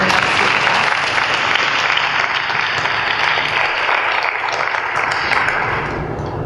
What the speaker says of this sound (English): Please give them a round of applause for coming up to speak